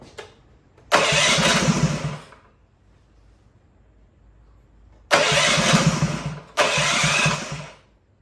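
Honda GX200 clone go-kart engine being pull-started: three loud bursts of cranking and sputtering, the first about a second long, then a long pause before two more close together, with no talking.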